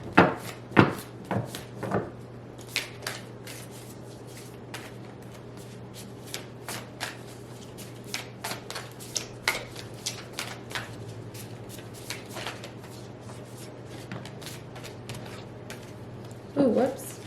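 A Moonology oracle card deck being shuffled up close, with a few sharp riffles and slaps followed by a long run of soft papery flicks and taps, plus a brief woody knock near the end.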